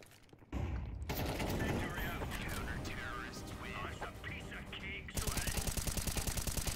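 Automatic gunfire in Counter-Strike 2 aimed at the planted bomb, a dense close burst of shots with someone talking over it, then a steady rapid rattle of rounds at the end.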